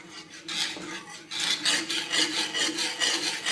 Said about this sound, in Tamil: இதை விஸ்கில் தான் கிளறணும்.